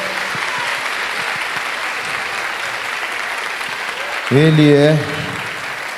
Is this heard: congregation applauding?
yes